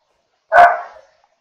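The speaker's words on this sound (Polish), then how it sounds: "przepraszam was za to, jeśli będzie słychać jakieś szczekanie psa" A single sharp dog bark rings out close and loud, then tails off quickly into silence.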